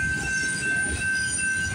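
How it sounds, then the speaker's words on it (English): A freight train loaded with lumber and empty log-carrying bulkhead flatcars rolls past steadily and loud, wheels squealing over a constant rumble, with no voices. "This train's got lots of lumber on it."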